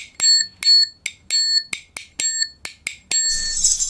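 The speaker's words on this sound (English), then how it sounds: "I thought that it sounded similar to a triangle," Metallic found-object percussion with a triangle-like ring, struck eight times at a steady pace, each hit bright and sustained, ending in a brighter, noisier shimmer.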